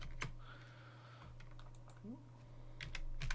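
Someone types on a computer keyboard while writing project documentation, with scattered light key clicks and a few sharper taps over a steady low hum, and faint speech in the background.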